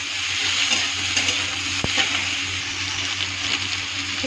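Food sizzles steadily in a hot pan during home cooking, a continuous close hiss and crackle with a brief clink of a utensil partway through.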